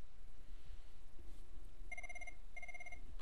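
An analog phone line on a Cisco MGCP gateway rings with two short electronic telephone ring bursts separated by a brief pause, clear against a faint background hum.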